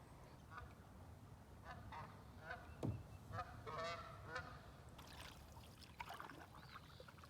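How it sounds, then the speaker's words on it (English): Several Canada geese honk in scattered calls, some near and some farther off, over a faint low background hum, on a river. "There goes some Canadian geese, or Canada geese as some people call them."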